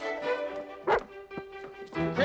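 A dog in a domestic doorway scene gives a few short yips and whimpery barks, close and moderately loud, with brief thumps between them.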